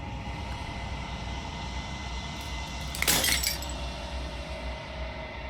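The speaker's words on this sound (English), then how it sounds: "As the final fragment of glass shatters, you see yourself with newfound clarity." Glass shatters in the video game Slay the Princess, one brief crisp burst of breaking shards rising over a steady low droning ambience, then fading back into the hum.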